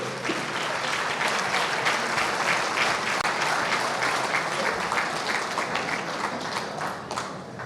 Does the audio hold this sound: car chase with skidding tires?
no